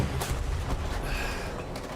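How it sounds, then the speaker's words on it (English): Anti-tank guided missiles fire in a tank video game, giving several sharp booming blasts that overlap into a dense, continuous barrage with no talking. "Those are anti-tank guided missiles."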